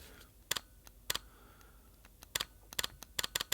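Quiet shutter of a Sony A1 camera, a series of soft, sharp ticks in irregular bursts, close up with no talk.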